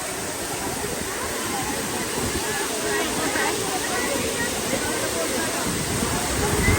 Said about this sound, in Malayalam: ഇങ്ങനെ വെള്ളത്തിൽ കുറേ നേരം കിടന്ന് നീന്തുക